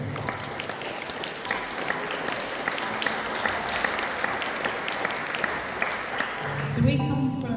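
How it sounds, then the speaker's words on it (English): An audience at a community co-design event applauds the presenters, dense sustained clapping from many people throughout, with a voice starting to speak as it ends. "a round of applause to our presenters"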